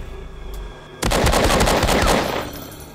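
Gunfire from the horror video game Amnesia: True Subway Horror erupts abruptly after a quiet, pulsing ambience, as a loud, rapid burst of shots roars for about a second and a half before fading.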